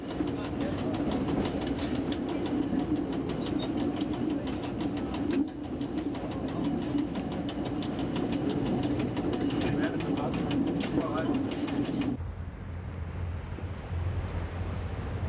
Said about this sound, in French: Très fier, l'autorail fait son arrivée sur la promenade du bord de mer.